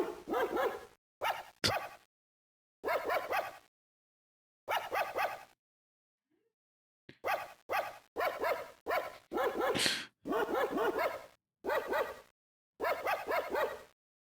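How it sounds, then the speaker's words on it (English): A video game dog in Tales of Phantasia on the Game Boy Advance sings in a series of short, clipped synthesized barks and yips, spaced in an irregular rhythm with silent gaps between them. "The dog's so smart, he can even sing."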